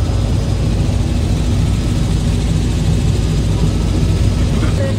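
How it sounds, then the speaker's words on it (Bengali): Steady, loud low-pitched engine drone with rotor-like throbbing fills a helicopter cabin in flight, constant throughout with no breaks. "আমরা এখন পাশাপাশি 3টা হেলিকপ্টারে ঢাকার উদ্দেশ্যে রওনা দিচ্ছি।"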